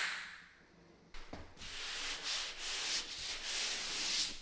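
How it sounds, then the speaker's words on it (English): Hand sanding of a dried skim coat over a drywall patch: a soft scrape, then steady rhythmic rubbing strokes of abrasive on joint compound, close and moderately quiet, with no talking. "I'm just gonna hit it with a quick sand like I did before"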